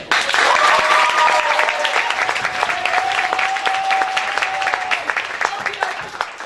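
Sustained applause with cheering fills a comedy improv theater, a dense wash of clapping from the audience that stays loud and steady, with a few voices shouting over it before it slowly eases.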